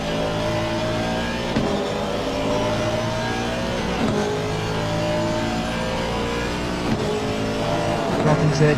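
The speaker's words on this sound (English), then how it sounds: "Robbins there trying to go up close here. Trying to catch the Ferrari" Race car engines revving in the Assetto Corsa Competizione racing game during a 24-hour Spa endurance race, a loud continuous engine roar rising and falling through gear changes, with cars nearby and chasing a Ferrari.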